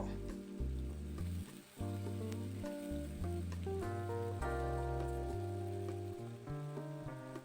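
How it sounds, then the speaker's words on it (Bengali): Chopped onions frying and being stirred in oil, giving a soft sizzle under prominent background music. "কিছুক্ষণ পেঁয়াজটা জাস্ট একটু ভেজে নিয়েছি"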